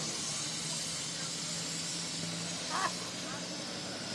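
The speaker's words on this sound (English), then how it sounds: "Definitely overheating. You can hear it blowing off right now." An overheating race car engine blows off steam at the track, a steady broad hiss that persists under faint background noise, with a brief louder burst near the end.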